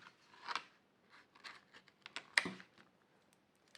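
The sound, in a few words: scissors cutting packaging tape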